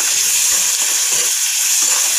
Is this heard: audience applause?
no